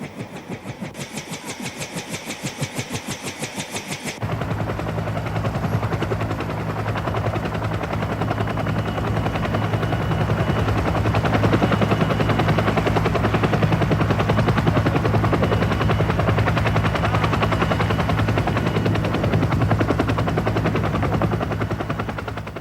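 A Cobra attack helicopter's rotor thuds loudly and steadily, preceded by a few seconds of rapid rattling, then a continuous heavy engine drone dominates.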